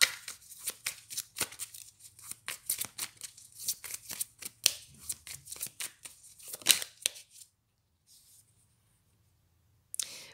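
Tarot cards are shuffled up close in a quiet room, making a burst of rapid, crisp riffling flicks that continue for several seconds, then stop, followed by near silence and one last short rustle.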